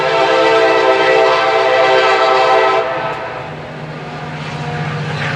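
An Amtrak or CSX train rolls past close by, loud and rumbling, its horn blaring a sustained chord for several seconds before cutting off, leaving the fading rumble of the passing cars.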